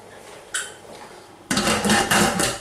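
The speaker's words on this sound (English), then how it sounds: "Lid goes on, twist." A pressure cooker lid clanks once as it is set on, then grinds and rattles in a close metallic scrape while it is twisted shut, with no talking.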